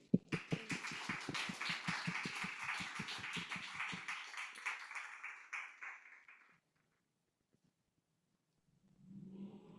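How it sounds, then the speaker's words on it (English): A handful of people clap to welcome a keynote speaker at a summit at FabCafe Tokyo, sharp claps close by for about four seconds, trailing off into faint taps and then silence. "give a warm round of applause for David"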